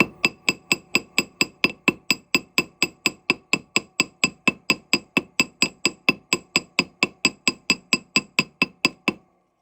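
Rapid, evenly spaced metallic hammer taps on a gold ring band, giving it a hammered finish, ring out about four per second, close and bright, continuing steadily before stopping.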